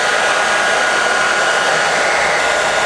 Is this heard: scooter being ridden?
no